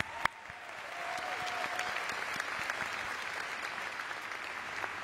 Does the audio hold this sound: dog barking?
no